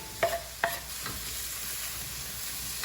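Onion, mushrooms and garlic cooking in olive oil and butter in a skillet: a soft, quiet sizzle with a couple of brief utensil clinks near the start, then a steady low hiss.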